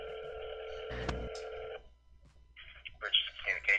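Steady electronic telephone ringing tone on a speakerphone line, with a brief burst of noise partway through, then people talking afterward.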